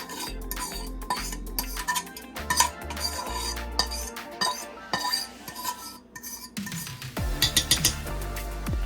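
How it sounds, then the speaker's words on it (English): Metal spoon scrapes and clinks against a pan while scooping out ground turkey, peppers and onions for turkey chili, a steady run of close scraping and clattering with occasional louder knocks. "And here I'm just getting all of it out the pan."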